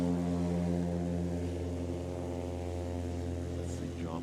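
Steady, droning buzz of a propeller-driven STOL airplane on the runway during Rocky Mountain STOL competition practice, a continuous engine hum with a faint rising tone near the end.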